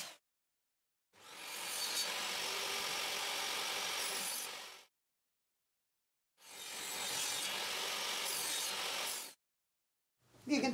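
Power saw cutting wooden slats for a floating shelf: two sustained, evenly loud whining cuts of a few seconds each, separated by silence, with the start of another at the end.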